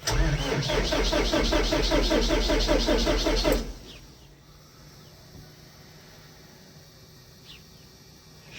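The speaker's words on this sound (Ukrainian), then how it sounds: "Пробуємо крутити стартером" Farm tractor engine cranked by its starter with the clutch pressed, a loud rapid rhythmic churning for about three and a half seconds that stops abruptly without catching, leaving quiet outdoor background.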